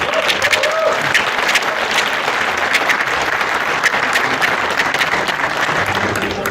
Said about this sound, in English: And I ask that all of you give them a round of applause.